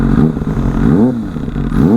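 A Kawasaki ZX25R KRT edition with quick shifter and auto blip revs hard and close, its high-pitched engine note rising and falling in repeated sweeping throttle blips with no talking over it.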